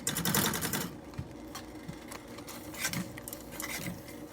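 A utensil scrapes and clatters against a pan while melted cheese is mixed into mac and cheese with ground beef, a busy, quiet rattling with a few sharper taps and no talk.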